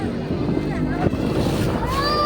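A speedboat ride on open water: a steady engine drone mixed with rushing wind and water noise, with voices talking over it throughout.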